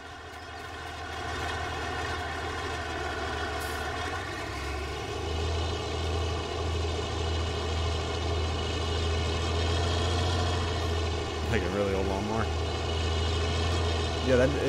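Vehicle engine in Farming Simulator 19 with a steady, loud drone like an airplane, running continuously with a small shift near the end.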